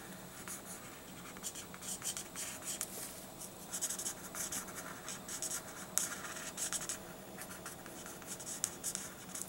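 Spectrum Noir alcohol marker coloring on paper, softening edges with a CT1 blender and framing in orange: steady close scratchy strokes with soft rhythmic rubbing, no talk.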